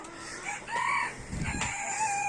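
A skittish rooster newly bought for a backyard coop crows loudly and close, one drawn-out call with clucks around it, no voices.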